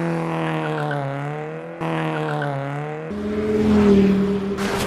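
Toy Hot Wheels cars, a Ford Transit Connect and a Porsche 911 GT3, race down a track, producing a steady engine-like whine that shifts pitch partway through, then a louder rushing burst near the end with no one talking.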